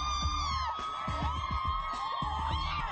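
A crowd whoops and cheers in a lively, shifting wash of overlapping voices, with high yells rising over a steady background roar, moderately loud throughout.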